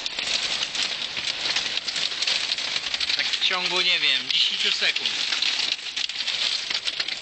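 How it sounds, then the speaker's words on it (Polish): Hail pelting down in Munich, a dense steady patter and rattle filling the whole stretch, with someone talking over it midway. "leci grad."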